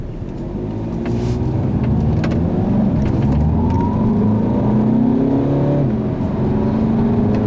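A 2015 Audi A3 TDI diesel car drives on the road, giving a steady, loud interior engine drone with rising and falling tones as it pulls through the gears, with no voices.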